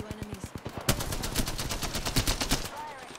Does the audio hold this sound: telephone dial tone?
no